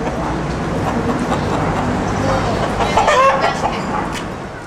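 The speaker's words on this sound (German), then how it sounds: "Auch Hähne, die für Hahnenkämpfe abgerichtet wurden." Roosters raised for cockfighting in Bangkok, with clucking and a crow rising over a busy, noisy background murmur, fairly close and continuous.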